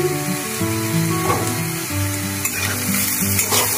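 Chopped green chillies sizzling in a hot pan for a Bengali fried gourd-peel dish, a steady bright frying hiss with a few stirring scrapes, under continuous background music and with no talking.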